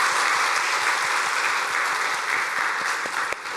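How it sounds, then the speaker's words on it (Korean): Congregation in a church sanctuary applauds a church deaconess, steady dense clapping filling the whole stretch, fairly close and sustained, tapering slightly at the end. "우리 권사님 위해서 박수 한번 할까요?"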